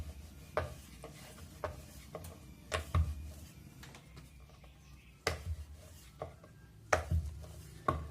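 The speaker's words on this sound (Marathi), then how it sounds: "व्यवस्थित असं लाटून घ्यायचं आहे" Dal paratha dough being rolled out on a board, a soft rubbing and thudding of the rolling pin with several sharper taps and knocks spaced irregularly, close and fairly quiet with no talking.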